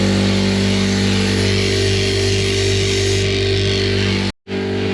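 An air compressor runs loud and close beside a truck breakdown repair, a dense continuous mechanical drone with a strong low hum that holds steady before cutting out briefly near the end.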